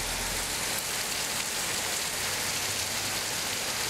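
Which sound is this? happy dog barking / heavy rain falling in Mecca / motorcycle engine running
heavy rain falling in Mecca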